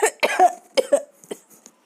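Several sharp coughs in quick irregular bursts from one person, close and loud, with short silent gaps and a couple of fainter coughs trailing off at the end.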